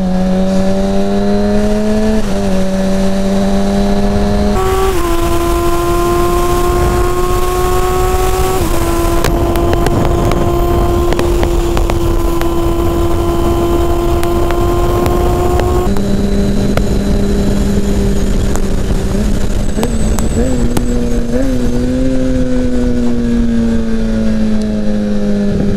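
Motorcycle engine droning steadily through a ride with a turtle aboard, its pitch stepping up and down through gear changes over about 26 seconds, loud and continuous with no talk.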